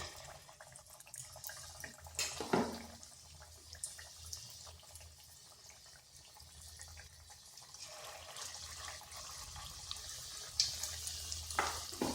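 Cabbage pakora batter sizzles in hot oil in a kadai with a quiet, steady hiss, broken by a few sharper bursts as pieces drop in.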